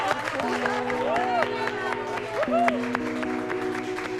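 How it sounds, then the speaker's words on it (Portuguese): A studio audience applauds as Mestre Cuca is introduced on a children's show, clapping and crowd noise running beneath a prominent speaking voice and other sounds. "Uma salva de palmas."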